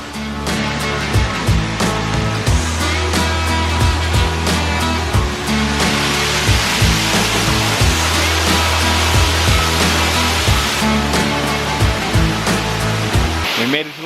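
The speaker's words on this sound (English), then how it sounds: "We're getting close, guys. We can hear the falls." A waterfall roars as a constant loud rushing wash throughout, with footsteps and hiking gear thumping rhythmically over it and a faint voice now and then.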